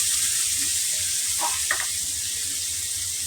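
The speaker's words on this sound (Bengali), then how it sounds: "পেঁয়াজটা আমি একটু ভাজা ভাজা করে নেব।" Onions fry in hot oil with a loud, continuous sizzle and a couple of soft stirring clicks partway through; no one speaks.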